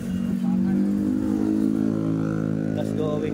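Close road traffic by the Santa Cruz Bridge in Manila, a steady engine drone with harmonic tones as vehicles pass continuously, no gaps, with some general street noise.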